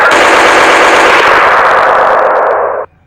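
A loud burst of rapid automatic gunfire rattles continuously for nearly three seconds, then cuts off abruptly into silence.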